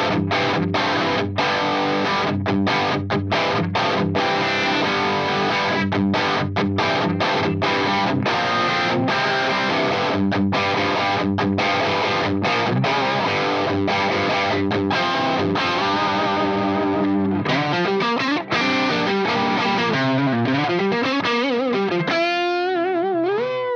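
Electric guitar played through the Axe-Fx III Atomica High amp model, a modded Marshall-style distorted rock tone: rhythmic chugging chords for most of the passage, then sustained bending lead notes toward the end, alone with no talk.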